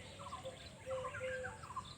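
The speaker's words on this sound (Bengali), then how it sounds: "আর এই চারিদিকে প্রকৃতির আওয়াজ দেখুন কত পাখির আওয়াজ" Many birds calling in a shaded, dense green forest at Garh Jungle, faint short chirps and thin whistles overlapping against a quiet background.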